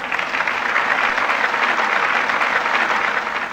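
A studio audience on a Vietnamese TV quiz show gives a dense, steady round of encouraging applause for contestants who all answered wrong, the clapping sustained and even throughout without any voices.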